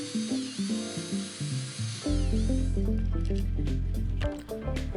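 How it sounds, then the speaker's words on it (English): A hole is drilled in a model's base so wires can reach its motor. A small drill whines with a shifting pitch, then settles into a loud, steady motor drone with faint clicks on top. "In order to get power to the motor, I'll drill a hole."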